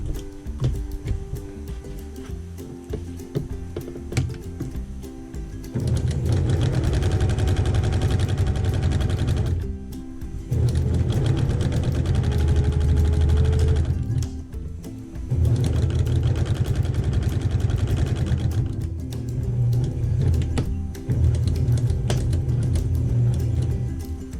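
Sewing machine stitching a quilted table runner, running in several long bursts of rapid steady whirring, each a few seconds, separated by short pauses for turning corners.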